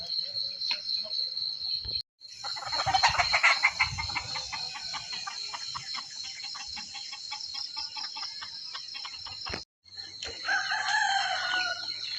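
Rooster crowing and hens clucking around a rural yard, with a steady chorus of crickets underneath; several crows and clucks come through fairly close, with a brief pause in the middle.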